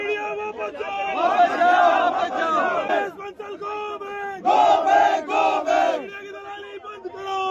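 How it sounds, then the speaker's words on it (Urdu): A crowd shouts protest slogans against the media in unison, two loud rhythmic bursts of chanting voices separated by a brief lull, with murmuring between. "لوگوں نے ان کے خلاف نعرے لگائے اور کہا دلال میڈیا گو بیک، دلال میڈیا واپس جاؤ"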